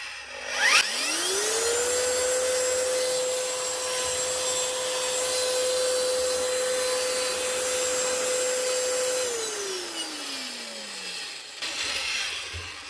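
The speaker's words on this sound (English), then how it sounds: "One Strata Drywall sander, up and running again, simply by cleaning out the switch." A Strata drywall sander, repaired by cleaning out its switch, starts with a click and spins up into a steady, loud, close whine. It holds an even pitch for several seconds, then winds down with a falling tone before a few handling knocks.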